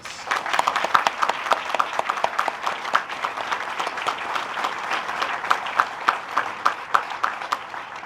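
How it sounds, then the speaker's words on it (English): A crowd applauds warmly at an open house and dedication ceremony, with many hands clapping in a steady, dense stream for several seconds. "So let's give these 3 groups a warm Kansas round of applause."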